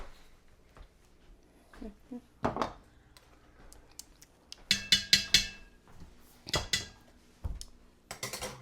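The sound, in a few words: stirring chicken paprikash in a pot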